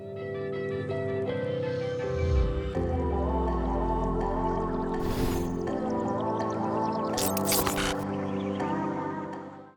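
A string of video transition sound effects from the VisualVFX all-in-one bundle: dense layered whooshes, low rumbling sweeps, squishy liquid-like textures and sharp bright noise bursts, loud and continuous with no talking.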